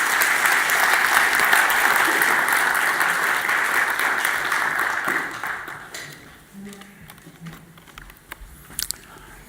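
A crowd applauds loudly and steadily at a Cryptofinance 2017 conference as Stefan Nilsson is introduced, the clapping fading after about six seconds into scattered claps and a few soft words.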